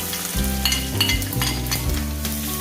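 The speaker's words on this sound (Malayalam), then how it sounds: "ഇനി നമുക്കിതിലേക്ക് അരിഞ്ഞു വെച്ചിരിക്കുന്ന ചുമന്ന ഉള്ളി ചേർത്ത് കൊടുക്കാം" Chopped red shallots hit hot oil in a pan for a Kerala fish curry, giving a loud, steady sizzle with scraping stir strokes throughout, no voices.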